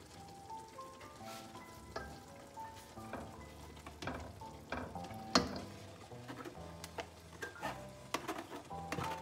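Pre-boiled rice stirred into jollof in a hot pan, with a steady sizzle and frying crackle under repeated scraping spoon strokes, close and moderately loud with a sharper knock near the middle.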